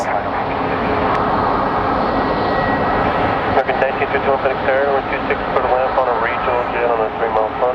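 Boeing 737 MAX airliner jet engines rumble steadily at an airport, a loud, continuous roar with broadband hiss throughout, while people talk over it.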